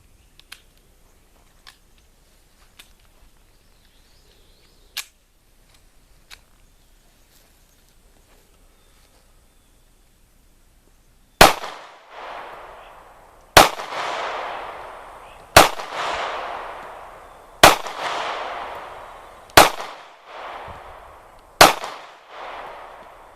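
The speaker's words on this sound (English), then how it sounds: "So I'm going to load it up and fire 6 rounds." A Kahr CW-40 .40 S&W single-stack pistol fires six sharp, loud shots at a steady pace of about two seconds apart, each with a short echoing decay, after a stretch of faint handling clicks.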